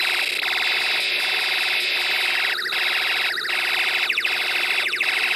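Electronic beeping tones from an Elenco Snap Circuits kit repeat in short bursts over a constant high whine, with sweeping, warbling effects shifting in pitch and pattern as a hand waves over a photoresistor.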